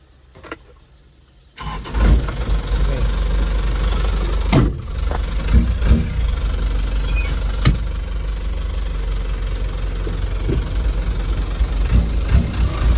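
A custom-built drinking water delivery truck's engine starts after a quiet moment, then runs steadily and loudly at close range with occasional clunks and knocks.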